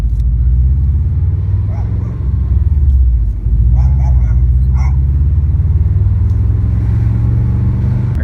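Inside a 2001 Subaru Impreza 2.5RS GC8, a steady low rumble and road drone from a worn rear left wheel bearing fills the cabin while driving, constant and loud, with a few faint clicks on top.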